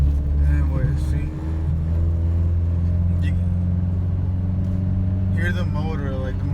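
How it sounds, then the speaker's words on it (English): A manual-transmission car's engine runs steadily with a low rumbling hum while driving, heard close and constant beneath a person talking throughout. "you hear the motor, like the motor will tell you when you need to, change the gear"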